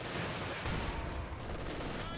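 Heavy machine gun fire from a .50 caliber weapon in the Company of Heroes 2 strategy game, a dense continuous clatter of bursts sustained throughout at steady loudness, with no pauses.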